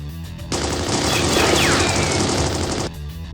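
A rapid burst of automatic gunfire in the video game Fate/stay night: Unlimited Blade Works, lasting a couple of seconds, loud and continuous, then abruptly stopping.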